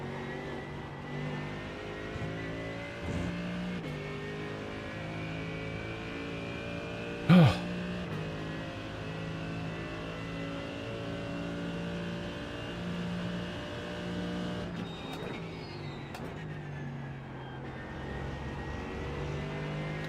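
A Mercedes race car in the iRacing sim holds a steady engine drone with layered harmonics through the whole stretch, one sharp brief burst midway and some shifting pitch later, with no talking.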